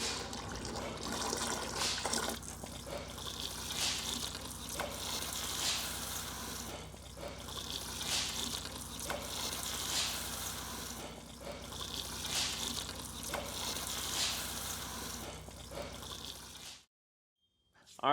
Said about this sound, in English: I'm going to go ahead and open up this valve now, just slowly, and let it flow out until I get a good steady flow